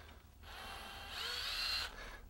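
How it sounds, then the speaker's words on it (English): A power drill spins up at a beaver flow device installation outdoors, a faint high whine that rises in pitch and strength for about a second and a half, then stops, with no talk. "Do have a drill."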